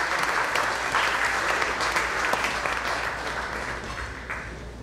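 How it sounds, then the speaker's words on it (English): A crowd applauds steadily throughout, a full, sustained round of clapping that tapers slightly toward the end. "So why don't you give yourself a nice round of applause."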